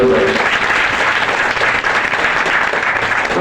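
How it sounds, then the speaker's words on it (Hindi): Steady, loud audience clapping fills the hall at a business gathering, a dense sustained wash of many hands with no pause. "लेकिन उनके सम्मान में भी हम तालियां बजाना चाहते हैं।"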